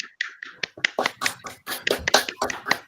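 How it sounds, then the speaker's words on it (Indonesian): A small group claps in a patterned rhythm for a tenth-grade class, sharp separate hand strikes in quick bursts with brief pauses, close and distinct rather than a continuous roar. "Tepuk tangan untuk semuanya."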